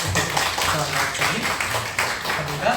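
A church congregation at Sunday worship claps to mark a member's birthday, a continuous wash of applause heard beneath a voice speaking over it.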